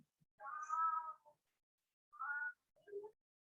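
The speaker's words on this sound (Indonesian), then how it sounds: "Saya dengar suara kucing loh, Vi." A cat meows three times, faint and fairly close, in an otherwise quiet room. The first meow is the longest and the next two are short.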